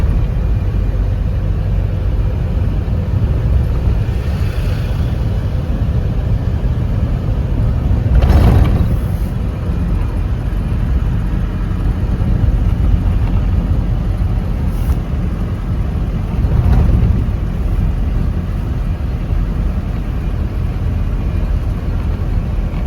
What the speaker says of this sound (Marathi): गाडी पुरी लोडमध्ये चालत होती.